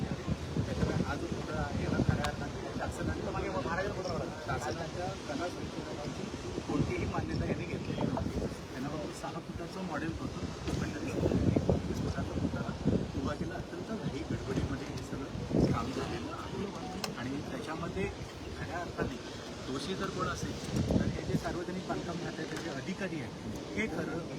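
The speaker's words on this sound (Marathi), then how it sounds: "आत्ता जो वारा हा सुद्धा पंचेचाळीस किलोमीटर जात आहे" Strong wind of about 45 km/h gusts across the open ramparts of Rajkot Fort in Maharashtra, a steady close rumble of wind buffeting the microphone throughout, with people talking beneath it.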